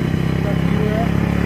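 A motorcycle engine labors steadily up a very steep road through the tea gardens near Darjeeling in North Bengal. The engine drones continuously and close while a voice talks over it.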